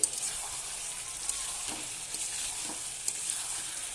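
Hilsa fish curry with raw banana and potato is stirred and fried in a pan, giving a steady soft sizzle under scattered spoon scrapes and light clinks over four seconds, close by and with no talking.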